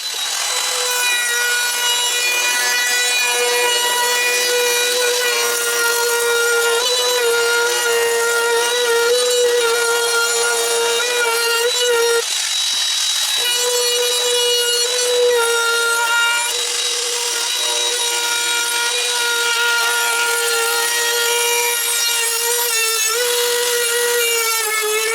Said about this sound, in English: So let's get the router out and trim that bad boy up.